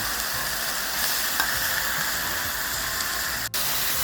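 A stir-fry sizzles loudly right after a splash of water hits the hot pan, a dense steamy hiss with light stirring and a brief dip near the end, close and continuous without speech.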